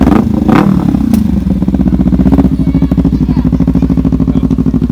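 Kawasaki Ninja 300 motorcycle exhaust, loud and close, with a rough throbbing idle that is blipped up in pitch early on, then settles into a steady pulsing rumble.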